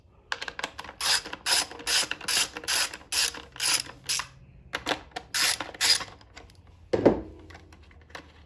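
A ratchet clicks rapidly while screws come out of the top of a Honda EG5000CL generator, heard up close in repeated short bursts, followed by a single sharp clunk near the end.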